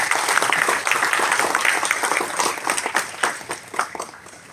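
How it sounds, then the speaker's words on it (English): Audience at an event applauding IBM India, a dense wash of many hands clapping that holds steady, then thins into scattered claps toward the end. "A huge round of applause to IBM India."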